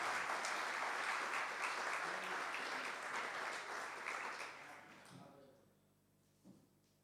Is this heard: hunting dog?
no